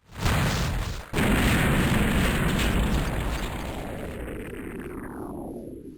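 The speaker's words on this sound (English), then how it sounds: "another explosion fades to a white" Explosion from The House of the Dead arcade game, a loud rumbling boom after a brief cutoff that swells again and slowly fades over several seconds.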